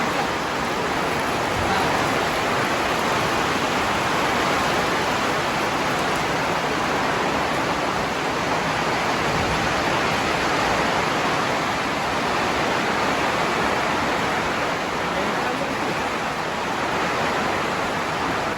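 Heavy rain falls steadily on the slopes of Mount Sindoro in Central Java during December, a dense, even hiss that holds close and constant throughout with no talk.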